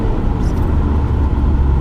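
An Alfa Romeo 147 GTA engine roars loudly and steadily at high revs near the limiter, a dense, sustained drone filling the whole moment with no pause.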